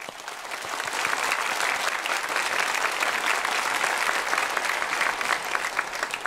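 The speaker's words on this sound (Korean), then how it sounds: "자리에서 인사하실 때 우리 경례 박수 드리겠습니다." A congregation at a Korean Sunday church service applauds to welcome visiting missionaries. The clapping builds over the first second, then stays full and steady for several seconds with no talk over it.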